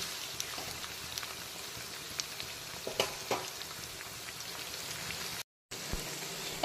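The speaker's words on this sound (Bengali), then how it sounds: "এখন আবারও বেশ কিছুক্ষণ সময় নিয়ে চেরা কাঁচা লঙ্কা আর পেঁয়াজ কুচিটাকে আবারও ভাজা ভাজা করে নিতে হবে" Slit green chilies and chopped onion frying in a pan over low to medium heat, giving a steady, fairly quiet sizzle with scattered small pops and a brief dropout near the end.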